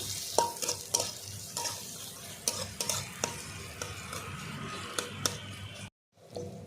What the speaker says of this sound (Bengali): একই সঙ্গে পেঁয়াজ আর লঙ্কাও দিয়ে দেবো ভালো করে একটু ভেজে নেবো আগে